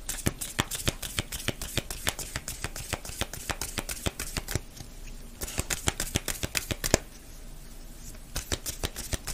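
A deck of witches' oracle cards is shuffled close by, with rapid, crisp riffling clicks in quick uneven bursts and a couple of short pauses, and no talking.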